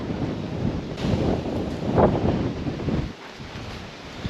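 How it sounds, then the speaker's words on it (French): Strong wind buffets the microphone with a loud, rough roar that swells in gusts, then eases to a lower rush near the end, outdoors in Nha Trang, Vietnam. "Vous l'entendez ce vent?"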